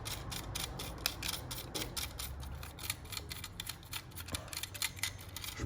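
Electric razor blades are rubbed and brushed clean in quick, uneven scratchy strokes, close and fairly quiet, a rapid rasping patter running throughout with no talk.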